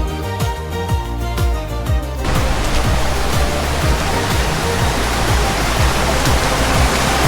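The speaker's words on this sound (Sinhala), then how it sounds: "මෙතනින් තමයි මේ උල්පත පටන් ගන්නවා කියලා" A mountain spring stream flowing on the Palabaddala trail to Sri Pada, heard as a loud continuous rush of water close by that grows fuller partway through.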